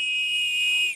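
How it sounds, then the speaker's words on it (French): Whistle built into a Savoie-made knife handle, grille-less and mountain-rescue style, blown in one shrill, piercing blast that holds steady for about a second before cutting off sharply. "c'est vraiment le sifflet qu'on utilise notamment à la montagne"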